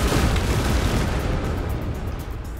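Bombs dropped from rockets explode in the video game Trailmakers, a loud, dense, rumbling blast with sustained booming that fades slightly over a couple of seconds.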